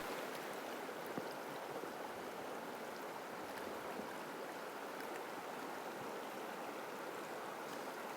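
Creek water at Wolf Point Creek in Glacier Bay flows in a continuous soft rush, an even, fairly quiet hiss of moving water with no talking.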